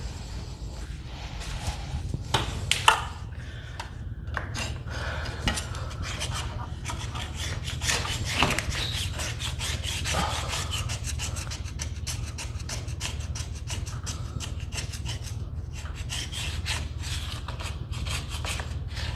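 A scraper drags steadily across a wooden staircase, rasping old stain off the side in a continuous rough scrape with irregular sharper strokes, close and fairly loud over low background rumble, with no talking.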